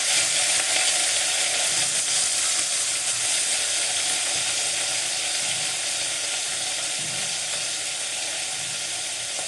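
Washed vegetables sizzle loudly in hot tempering oil with turmeric, a dense, steady hiss of frying that carries on evenly throughout with no voices.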